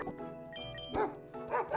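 A dog-like Pokémon cry from the Pokémon Z fangame: a short run of bright, synthetic yipping and whimpering tones, with a couple of sharper yelps near the end, all within under two seconds.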